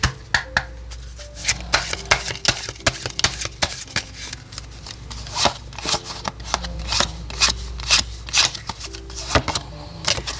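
Oracle cards are shuffled by hand for a tarot reading, producing a close, continuous run of crisp flicking and tapping sounds with brief pauses, mostly alone.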